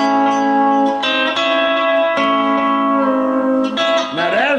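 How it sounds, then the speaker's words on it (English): Lap steel guitar sliding into notes on a skip-string pair, third and fourth strings, sustained harmonic tones with pitch glides between notes and a final upward swoop, played alone and loud. "Let me demonstrate a slide in."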